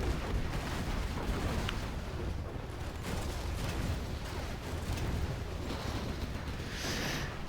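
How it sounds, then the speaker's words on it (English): Artillery barrage in Command & Conquer Generals Zero Hour, a dense continuous rumble of booming impacts and crackling bursts throughout, loud and sustained with no talk. "Artillery going to hit a black market."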